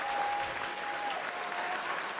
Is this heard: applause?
yes